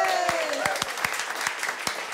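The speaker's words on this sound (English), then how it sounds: "Good big round of applause for co-leader of the Maori Party, Marama Fox." Studio audience applause for a political party co-leader on a live TV show, a steady dense clapping wash with a few sharper claps standing out, while a host's voice briefly carries over it at the start.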